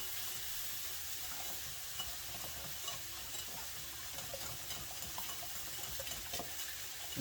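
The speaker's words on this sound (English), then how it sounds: "And just mix that right into the ketchup." Honey, mustard powder, garlic powder and paprika are mixed into ketchup in a bowl, making a continuous wet stirring and scraping sound close up, steady and unbroken throughout.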